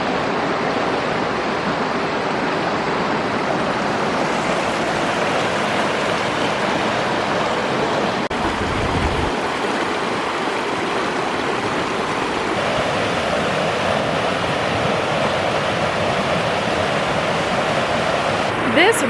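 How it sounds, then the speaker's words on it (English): A flowing river along the Watchman Trail in Zion National Park in January rushes steadily and loudly with a dense, constant wash of water, close by and unbroken throughout. "The fact that there is like an actual flowing river here is so beautiful and heartwarming"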